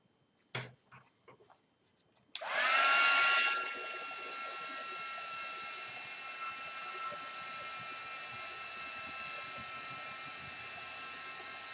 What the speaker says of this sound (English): I'm going to use my dryer and see if I can get that to dry a little bit quicker.